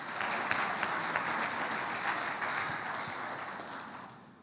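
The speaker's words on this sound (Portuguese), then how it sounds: "Uma salva de palmas para os nossos atores." An audience claps for actors after a short skit during a talk on marriage, a dense burst of applause lasting a few seconds before tapering off.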